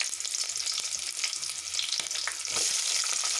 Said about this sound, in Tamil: அப்புறம் சின்ன வெங்காயம் போட்டுக்கலாம்.